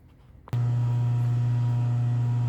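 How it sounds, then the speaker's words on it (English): A rotary phase converter's steady low electrical hum with a strong drone kicks in abruptly after a moment of quiet and runs on unchanged, loud and close. "the noise you hear in the background is our rotary phase converter"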